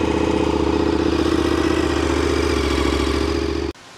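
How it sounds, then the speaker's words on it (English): A 2015 KTM Super Adventure 1290 motorcycle idles loud and close with a steady, throbbing rumble and mechanical clatter, then cuts off abruptly near the end, leaving near silence. "2015 KTM Super Adventure 1290, and I'm telling you, this is a beast of a bike."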